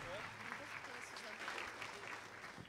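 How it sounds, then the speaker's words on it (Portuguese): A church congregation claps along, faint and steady, under a leader's voice and music at a lively worship service. "Aplauda o Senhor com alegria."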